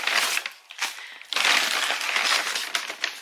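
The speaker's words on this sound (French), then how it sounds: "Désolée pour le bruit, je vais sortir les trucs du sac" Crinkly paper rustling up close, in bursts and then a longer continuous crackle as a takeaway food bag is handled and unpacked.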